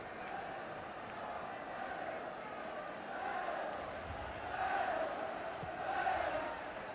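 A football stadium crowd of about 17,000 at a Wales v England match roars and chants from a distance, a dense, swelling wash of voices that rises in waves under steady commentary.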